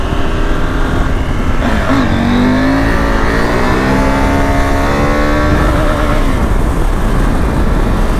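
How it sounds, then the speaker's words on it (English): A KTM 890 Adventure R motorcycle in sixth gear at around 50 mph, rolling on the throttle: a loud, steady engine drone rising slowly in pitch over wind rush, close to the rider, no talk. "I'm in top gear, 6th gear at 50 miles per hour. If I do a roll on, it struggles a little bit"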